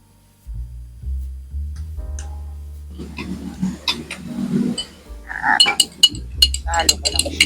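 A metal spoon clinks repeatedly against a glass while stirring coffee with condensed milk at a camp kitchen, sharp bright taps in irregular bursts, with people talking throughout.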